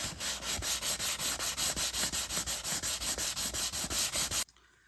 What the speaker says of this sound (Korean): 사포 작업은 다 완료가 됐고요.